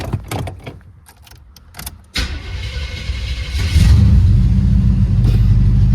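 A homemade slam mower engine being started on a warm day, beginning with clicks and cranking before the motor catches at about two seconds and settles into a loud, steady running rumble that grows heavier toward the end.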